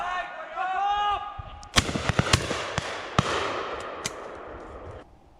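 Shotguns fire at a countryside pheasant shoot, a quick cluster of sharp cracks and a couple of later reports, moderately distant, after a brief whistle-like tone at the start.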